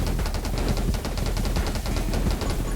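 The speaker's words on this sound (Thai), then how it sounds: "โอ้แต่มันเป็นลูกซองไงมันยิงใกล้มากนะฮะ" Rapid, continuous shotgun blasts in the survival shooter 10 Minutes Till Dawn, firing in a dense, machine-gun-like stream of loud, close reports with no pauses across the whole stretch.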